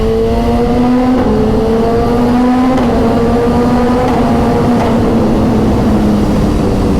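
A BMW S1000RR superbike engine revs through quickshifted gears, a loud, sustained high-pitched wail with quick, crisp shift breaks every second or two, heard close up without any voices.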